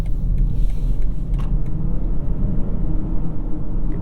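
A 2021 BMW X5 45e plug-in hybrid with an inline-six engine accelerates out of a corner. Loud, heavy low-end road rumble and engine drone are heard from inside the cabin, steady with no talking.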